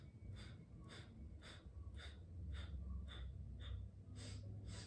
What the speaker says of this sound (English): you're going to inhale through the nose. And 8 times, exhale out of the nose